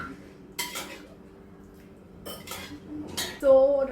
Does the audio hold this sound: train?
no